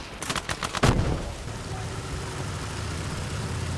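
Gunfire at a BT tank in the World War II game Gates of Hell opens with a rapid burst of loud, close shots, then a heavy blast, followed by a low rumbling engine drone.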